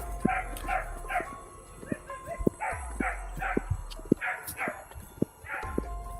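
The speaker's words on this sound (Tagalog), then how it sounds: "Bakit may aso dun?" A dog barks in short repeated bursts with a few whimpering yelps, several sharp thumps and a low background rumble between them, heard at moderate distance.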